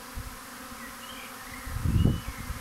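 A honeybee swarm lands in a hive box outdoors, a dense close buzzing hum that swells loudly near the end as more bees arrive.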